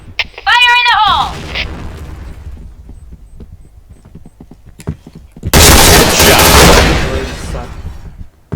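A grenade explodes in the shooter game Point Blank with a loud, broad blast that lasts about two seconds before fading. Earlier, a shouted voice calls out over a low rumble.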